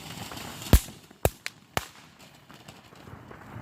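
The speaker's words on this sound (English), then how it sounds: "You guys are at fireworks with us, people." Fourth of July fireworks, four sharp cracking bangs in quick uneven succession, moderately distant, with quiet outdoor ambience between them.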